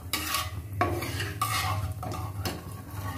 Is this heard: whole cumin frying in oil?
yes